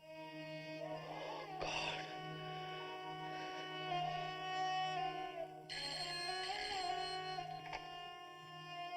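A telephone rings indoors in a dramatic household scene, a steady electronic ringtone with repeated melodic tones over a low background hum, no voices.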